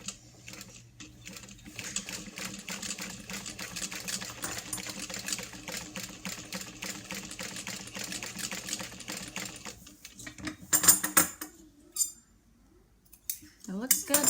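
A sewing machine stitches with retightened thread tension in a fast, even mechanical patter for about ten seconds, fairly quiet and close, then breaks into short starts and stops with pauses.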